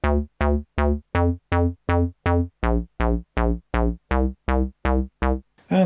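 Korg Volca bass patterns recalled from memory slots, a steady run of about fifteen short, punchy synth bass notes changing pitch midway, loud and dry with no talking.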